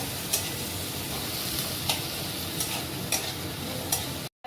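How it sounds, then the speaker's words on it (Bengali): Chopped onions stir-fried in hot oil for chicken, with a constant dense sizzle and a few spatula scrapes at roughly regular intervals, close and steady, with no talking, ending in a brief cut to silence. "জাস্ট একটু কালার চেঞ্জ পর্যন্ত আমরা নেড়ে নেবো, খুব বেশি ফ্রাই করার দরকার লাগে না।"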